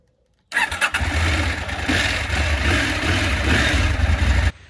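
A KTM motorcycle engine cranks and fires up after a moment of silence, then runs loudly with a rough, throbbing idle before cutting off.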